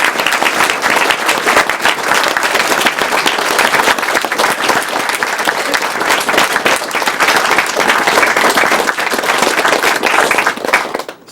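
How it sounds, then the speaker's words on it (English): Loud, sustained audience applause fills a hall at the Awesome Games Done Quick speedrun marathon, dense clapping throughout that fades out at the very end. "deserve a big round of applause"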